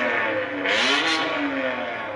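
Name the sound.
Lamborghini race car engine revving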